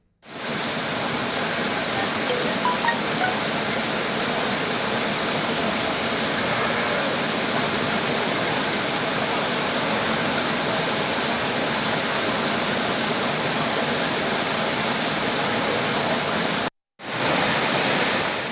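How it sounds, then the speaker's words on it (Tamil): The flooded Panchalinga waterfall near Udumalai in Tiruppur district roars in a loud, steady, unbroken rush of heavy water that continues alone until a brief cut near the end. "திருப்பூர் மாவட்டம் உடுமலை அருகே உள்ள பஞ்சலிங்க அருவியில் 3வது நாளாக வெள்ளப்பெருக்கு தொடர்கிறது."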